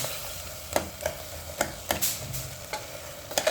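Tomatoes cooked down with salt sauté in a pan, a low steady sizzle punctuated by regular scrapes and taps of a spoon stirring against the metal, close and alone with no speech.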